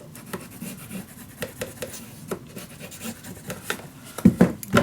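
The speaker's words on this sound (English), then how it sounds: "burnish it down" Glued paper in a mini album is rubbed down with a bone folder, soft uneven scraping strokes up close, ending in a few louder rubs.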